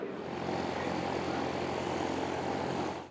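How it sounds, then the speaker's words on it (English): Steady, close propeller drone of a P-51 Mustang fighter plane in flight, a continuous loud engine hum with a low rhythmic throb lasting the whole stretch and no voices. "the P-51 Mustang, the most famous plane in war aviation history"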